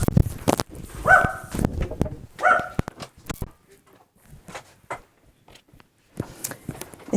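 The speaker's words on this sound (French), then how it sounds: "donc du coup, les chiens aboient." Several dogs barking indoors, a cluster of sharp barks and yips in the first few seconds, then quieter scuffling with occasional distant sounds, and a burst of bark-like noise returning near the end.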